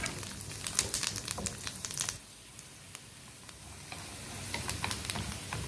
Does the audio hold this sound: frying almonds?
yes